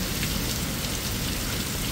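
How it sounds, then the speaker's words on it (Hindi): Heavy rain pours steadily in a dense, even hiss during a monsoon evening, continuous and close with no voices over it. "बारिश अच्छा भी लग रहा"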